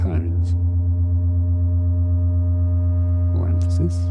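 Dark, sustained drone from a modular synthesizer through spring reverb, a deep steady low tone with rich stacked harmonics holding throughout, with brief soft bursts of noise near the start and end.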